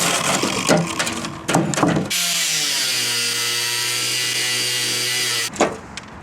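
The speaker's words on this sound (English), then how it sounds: "Then I cut away all the bolts holding the frame pieces to the wagon bed." Power tool cutting through the bolts that hold metal frame pieces to a wagon bed, a steady sustained whine with rising and falling pitch, preceded and followed by shorter rough bursts of cutting.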